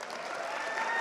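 Audience applause at a veterinary medicine gathering as colleagues stand, a dense steady wash of clapping from a large crowd lasting about a second, with no talk over it.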